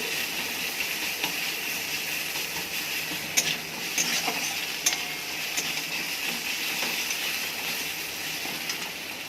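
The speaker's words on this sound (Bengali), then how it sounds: "পেঁয়াজ ভাজা ভাজা হয়ে গেছে, এবার আমি রসুনটা দিয়ে দিচ্ছি।" Garlic is tipped into a pan of browned fried onions for a curry and stirred, giving a quiet, steady sizzling hiss broken by a few sharp clicks of the spoon against the pan.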